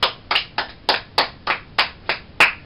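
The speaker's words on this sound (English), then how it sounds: "so give her a round of applause." Ten sharp, evenly spaced claps ring out alone in a steady rhythm, close and fairly loud.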